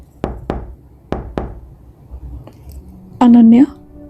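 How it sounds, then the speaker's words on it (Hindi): Knocking on a door as a horror story sound effect: two sets of two sharp close knocks, then a brief high tonal cry at the end. "5 मिनट के बाद फिर से नॉक होता है, इस बार थोड़ा लाउड।"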